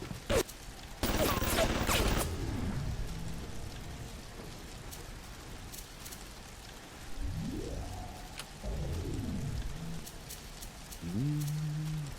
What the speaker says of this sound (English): did we get a machine deployed on us? Kinda feels like we did. Yep, turret.